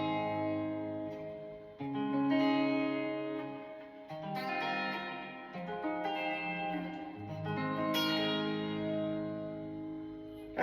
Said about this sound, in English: let's go to the next reverb, which is a church reverb